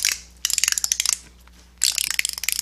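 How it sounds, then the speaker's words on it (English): Ratchet-type sprag clutch from a 4T65-E automatic transmission clicking in two bursts, rapid dense metallic ratcheting ticks, close and crisp with a pause between. "We have two sprags here, forward and third. They're ratchet type."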